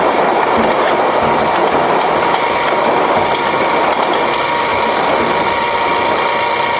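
A homemade junk tumbler turns continuously, giving a loud, steady rumbling and grinding with a constant mechanical drone and faint rattles, close by.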